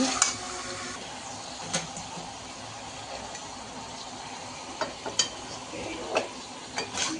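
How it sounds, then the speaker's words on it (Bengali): Desi chicken meat being stirred into fried onions in a wok, with quiet scattered clinks and scrapes of a utensil against the pan over a low, steady background. "মাংসটা দিয়ে দিয়েছে পেঁয়াজের ওপরে এবার নাড়বো"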